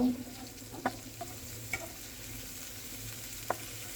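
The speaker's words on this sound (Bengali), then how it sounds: "হলুদ গুঁড়ো শুকনা মরিচ পরিমাণ মতো লবণ এক চামচ আদা ও রসুন বাটা এবার এগুলোকে নেড়ে চেড়ে ভালো করে কষিয়ে নিব" Turmeric, dried chilli, salt and ginger-garlic paste being stir-fried in a pan, a soft steady sizzle with a few light scrapes and taps of the spatula, close and quiet with no talking.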